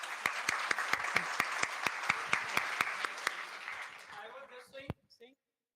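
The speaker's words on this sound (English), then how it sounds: "Clap, please." Sparse, slow handclaps from a small audience at a college first-year induction program, about a dozen distinct claps in steady rhythm, then fading into quiet voices near the end.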